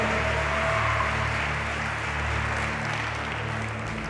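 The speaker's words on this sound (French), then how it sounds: "est-ce qu'on peut faire un tonnerre d'applaudissements" Church congregation giving a long round of applause at a Saturday morning gathering, a steady, dense wash of clapping from many hands lasting the whole few seconds, with no voices over it.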